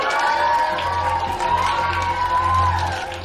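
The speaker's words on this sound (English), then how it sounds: "They're only cheering because they know they don't have to go." A room of schoolchildren cheers and shouts together in a sustained, lively burst, close by and loud throughout.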